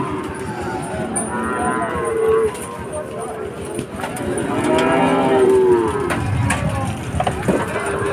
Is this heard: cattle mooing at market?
yes